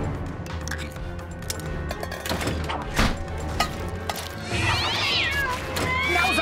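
Cats meow and yowl in a cartoon scene about a street gang of cats, with rising wavering cries standing out near the end over busy background sound and a few thuds.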